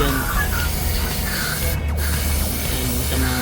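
Contact cleaner sprayed onto motorcycle engine parts during an engine recondition, a steady close hiss running throughout with no talk.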